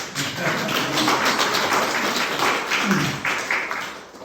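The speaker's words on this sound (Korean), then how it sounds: "박수 한번 해주시죠." A church congregation at a Sunday worship service in a hospital chapel in Changwon claps. The applause is dense and continuous, filling the room for several seconds.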